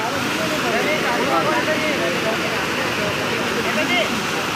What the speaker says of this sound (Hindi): लूनी नदी का झरना किस प्रकार बह रहा।